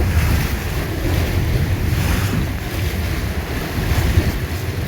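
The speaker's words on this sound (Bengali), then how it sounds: "এক একটা ঢেউ লঞ্চের সাথে কত জোরে আঘাত হানলে পানি এত দূরে ছিটকে যেতে পারে।" Waves on the rough Meghna river crash against the Surabhi 7 passenger launch, a steady loud roar of surf and water mixed with strong wind buffeting the microphone, with no talk.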